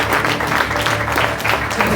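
Loud, dense applause from a large church congregation, steady and continuous throughout with no pauses.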